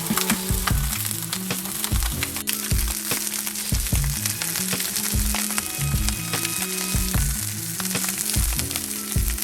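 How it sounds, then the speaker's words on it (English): Sausage searing untouched in a hot pan as it builds a crust, a loud, dense, crackling sizzle with sharp spits and pops throughout, close up and without talk. "Just leave the sausage alone,"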